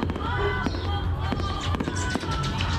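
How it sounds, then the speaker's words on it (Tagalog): Fireworks boom and crackle in a steady stream of bursts during the Tuna Festival opening salvo, loud and close, with crowd noise and talk underneath. "So medyo mahaba-haba yung kanilang fireworks mga idol, no?"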